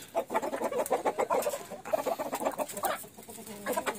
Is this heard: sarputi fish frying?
no